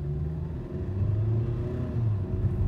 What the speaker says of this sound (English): let's go ahead and actually do a little bit of a harder acceleration here